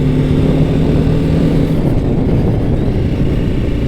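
A BMW G 310 GS motorcycle pulls away on the road, its single-cylinder engine droning loud and close alongside broad wind rush, holding a steady level throughout with no voices.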